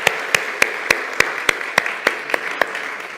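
A church congregation at a Sunday service applauds to welcome a new member, with sharp, evenly spaced claps about three per second standing out over a softer wash of clapping.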